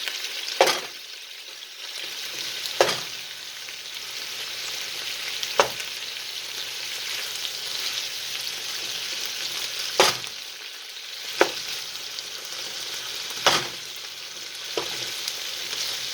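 Chunky potatoes sizzle and fry in butter with onions in a pan, a steady broad hiss broken by several sharp scrapes of a spatula stirring through the mix.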